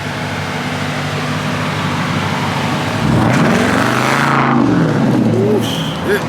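Straight-piped Jeep SRT engine revving loudly close by, a sustained roar that climbs sharply in pitch and then falls back, filling the space.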